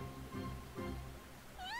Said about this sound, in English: It's meowing like a cat.